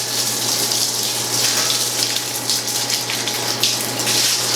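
Cold water runs from a hose to rinse the coil of a stainless brewing unitank, a steady close splashing gush with a constant low pump-like hum underneath and no talking.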